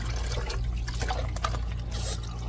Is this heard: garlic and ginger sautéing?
no